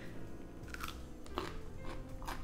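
Close crunchy bites and chewing of a freshly made Korean cucumber pickle seasoned salty and garlicky, several crisp crunches over a soft, quiet background.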